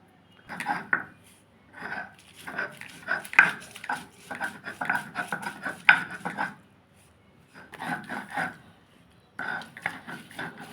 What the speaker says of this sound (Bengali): ধনে পাতাটা একবার বাটা হয়েছে, আর একবার বেটে নিচ্ছি ভালো করে রসটা বেশি পাওয়ার জন্য